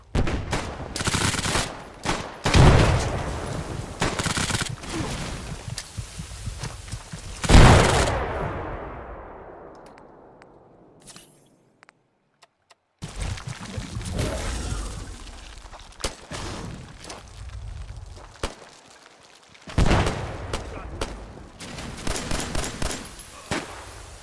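Gunfire in Fallout 4, loud bursts of rapid shots and a heavy blast that rings out and fades, then a short silence before more shooting resumes in choppy volleys.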